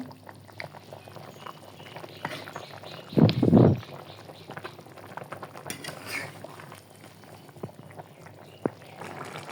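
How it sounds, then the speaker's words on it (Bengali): Fish curry with eggplant, potato and okra simmering in its broth, a steady soft bubbling and crackle close by, with one louder burst of sputtering partway through and no talking. "এই তো এবার ঝোল দিয়ে দিয়েছি, তরকারিতে মাছও দিয়ে দিলাম।"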